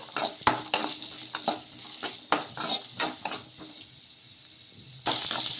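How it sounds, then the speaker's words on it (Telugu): Sliced onions being stirred into a cooking mixture in a pan, giving a series of distinct scraping and clinking strokes of a utensil against metal, with a soft sizzle underneath and no talking. "ఇలా ఆనియన్ వేసేసుకొని ఒకసారి బాగా కలిపేసుకుందాము."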